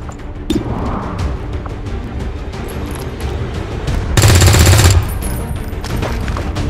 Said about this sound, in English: Shot failed to connect.